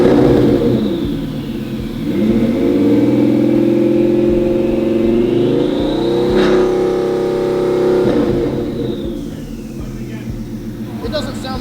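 Bugatti Veyron quad-turbo engine revving under tuning on its timing maps, a loud sustained roar rising and falling in pitch with whistling turbo spool near the start, and voices talking over it.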